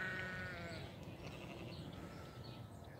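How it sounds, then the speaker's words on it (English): Sheep bleat faintly in the distance as the flock comes in for the night on a small family farm, a few wavering calls over quiet outdoor ambience. "You can hear the sheep coming in for the night."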